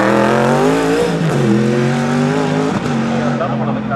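A Rockville Cobra race car at the Leyburn Sprints drives hard nearby, its loud, buzzing engine note holding high and shifting in pitch as it accelerates.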